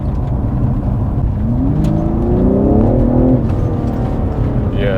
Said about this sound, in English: It's quite easy for it to lose traction. Yeah, if you pin it.